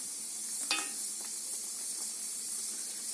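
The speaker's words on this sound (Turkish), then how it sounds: "Yağımı üzerinde gezdiriyorum. bir kere karıştırıyorum." Fresh peas in olive oil in a pot give a steady soft sizzle and hiss, with a brief scrape of stirring near the start and faint clinks after.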